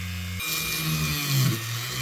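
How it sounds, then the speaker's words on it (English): A small high-pitched Dremel rotary tool with a very fine drill bit whines steadily, its motor pitch dipping briefly under load as it drills small pin holes in brass. "To drill out the chain pin hole, I'm using some very fine drill bits."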